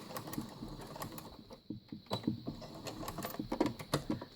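A sewing machine stitching a pillowcase runs in short bursts of rapid, even needle strokes that stop briefly for a pivot. The sound is moderately close and steady, with no speech over it.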